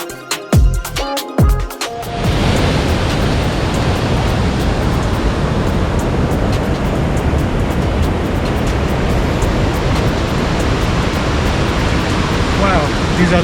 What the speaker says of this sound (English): Wow, these are the flash floods, not a waterfall. You can see the power of this water.